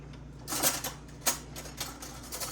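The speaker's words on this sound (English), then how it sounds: "I'm going to go ahead and cut my okras." Knife cutting okra on a board, a few soft separate chopping taps over a quiet background.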